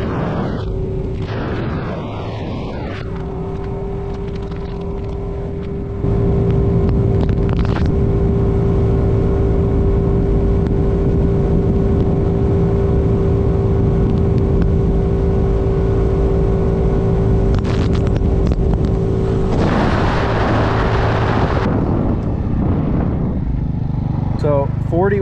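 A 50cc GY6 scooter fitted with a big intake kit revs up and holds a steady droning engine note at speed, loud and close with wind rush, easing off near the end.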